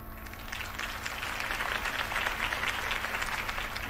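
A crowd applauds after a campaign speech in Telltale's Batman game, a dense, even roar of clapping that swells slightly midway and holds steady.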